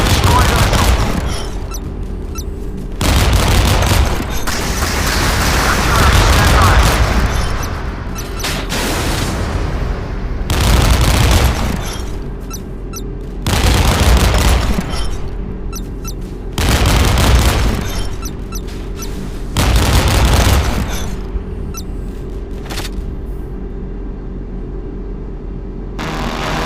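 Anti-aircraft guns fire at an incoming missile in the Modern Warships naval video game: several loud, sustained bursts of rapid booming gunfire separated by brief lulls, close and heavy throughout.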